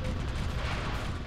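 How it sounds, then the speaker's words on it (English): Rapid gunfire from the Ratchet & Clank video game, on the Hoven/Pokitaru level, forms a dense, steady burst of shots that fills the moment loudly without pause. "I'm shooting those things."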